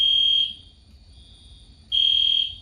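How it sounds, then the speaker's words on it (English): A piercing security system alarm sounds during a system test, one loud, steady high-pitched tone, then a short quiet gap before a second burst starts abruptly. "that alarm is loud. It's the loudest alarm I do have"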